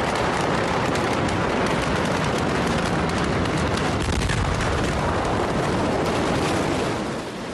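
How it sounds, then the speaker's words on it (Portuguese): A second explosion at a port warehouse, recorded from close by: a loud, sustained roaring rumble with crackling bursts that fills the whole stretch and barely fades. "Aqui, o momento da segunda explosão, filmado por quem estava muito próximo do armazém."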